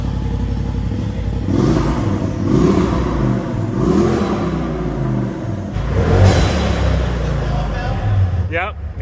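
Car engine with its exhaust cutout valve opened, a deep close rumbling idle with several swelling revs rising and falling, under steady talking.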